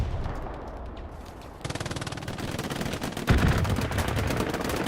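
Rapid bursts of automatic gunfire from an air strike run in a console military shooter, loud and dense, building into a continuous crackling barrage with a heavier blast near the end.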